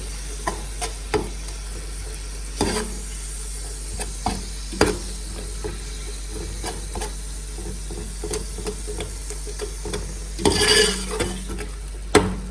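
Whole garam masala spices lightly roasted in a little oil in a pan for beef paya, with a soft steady sizzle under repeated scraping and clinking of a spoon stirring against the pan, closing with a brief louder burst of stirring.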